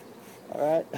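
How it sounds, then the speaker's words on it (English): A honey bee from a swarm of about 20,000 buzzes close by in a brief, loud drone that rises and fades within a moment, against quiet background. "we're covered with bees, and we got a good portion of them in there"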